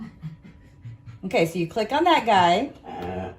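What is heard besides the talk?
dog panting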